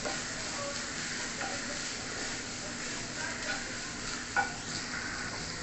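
Onion and ginger fry with cumin seeds in hot oil for an egg and brinjal dish. A quiet, even sizzle runs throughout with faint stirring clicks and one brief scrape near the end.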